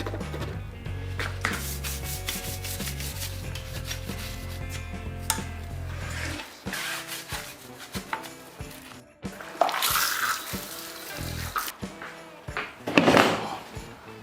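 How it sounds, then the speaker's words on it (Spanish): A car wheel rim is scrubbed with water and car shampoo, giving rough rubbing and brushing strokes, then sloshing, splashing bursts of water and wet wiping, close and uneven in loudness. "voy a utilizar un poco de agua y champú de auto para limpiar muy bien todo el rin"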